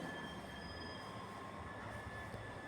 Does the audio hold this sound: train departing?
yes